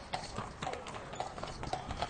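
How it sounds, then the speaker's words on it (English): Police horses clip-clop along a Milan street, a steady close rhythm of hoofbeats on hard pavement over a faint city background. "Horse police."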